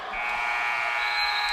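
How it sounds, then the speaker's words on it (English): An end-of-game buzzer at a high school basketball game between Labette County and Fort Scott blares as one continuous steady tone through the gym, loud and unbroken to the end. "And the buzzer will sound here."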